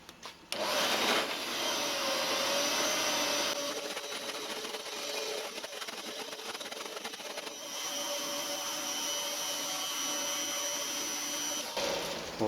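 A milling machine cuts metal under power feed, a steady whining machine drone with a grinding cutting noise that holds for about eleven seconds, shifting slightly midway before stopping.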